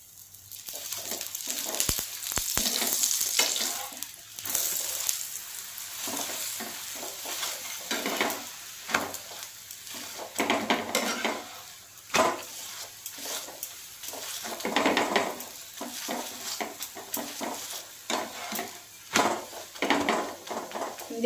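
Aloo paratha frying in oil in a pan, a continuous close sizzle broken by scraping and stirring strokes of a spatula and a few clinks of the pan, with no talking.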